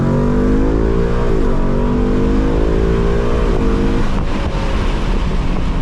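A 2024 Mustang GT V8 fitted with K&N cold air intakes accelerates hard through gears with paddle shifts, its loud engine note climbing in pitch and briefly dropping at each shift, under strong wind noise.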